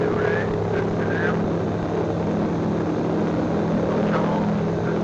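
A light tailwheel aircraft's engine drones loud and steady through the takeoff roll and climb, close up, with faint voices briefly audible over it.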